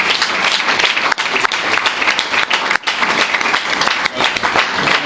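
A congregation applauds at a church service, dense sustained clapping from many hands filling the room continuously, with brief dips, close and loud, no talking heard.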